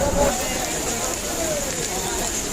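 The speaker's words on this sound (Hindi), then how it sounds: "अभी तेज बारिश शुरू हो चुकी है दोस्तों" Heavy rain pours steadily at Sita Kund in Gaya, a continuous close hiss of water on surfaces with faint crowd babble beneath.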